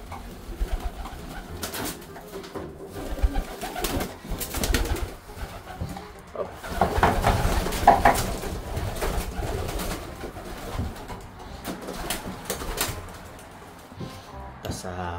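Pigeons coo steadily inside a racing-pigeon loft, a soft low murmur of several birds with scattered wing flutters and knocks, while a person talks nearby over them.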